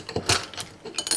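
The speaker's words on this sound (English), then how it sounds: "you put the ice cubes into" Ice cubes dropped into a mug, a few quick clinks and clatters in a short burst, close and fairly loud.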